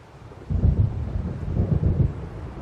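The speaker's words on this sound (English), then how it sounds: "It seems there's a storm coming." A deep rolling rumble of thunder from a storm in the video game Alan Wake Remastered, swelling suddenly and grumbling in low waves over windy background noise, with no voices.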